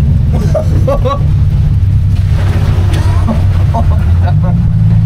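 A car drives through standing water on a rain-soaked, flooded road, giving a loud, steady engine rumble with rushing, splashing water throughout, while voices talk inside the car.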